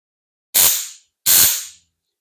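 Sting Ring rechargeable stun gun crackling in two sharp electric arcing bursts, each about half a second long, loud and close with a short pause between them.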